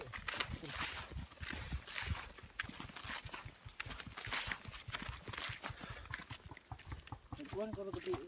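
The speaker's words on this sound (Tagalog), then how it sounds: "Ay, ito'y kabayo oh." A horse walks through a pasture, its hooves clip-clopping in a steady rhythm at moderate distance beneath outdoor background noise, while people chat nearby.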